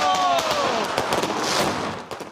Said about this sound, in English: It could have thought of something better than fireworks.